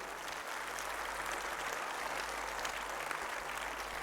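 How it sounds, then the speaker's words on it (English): An audience applauds performers after a drama at a school annual function, a steady, fairly faint wash of clapping that holds evenly throughout with a low hum beneath it. "Please give a big round of applause to the performers."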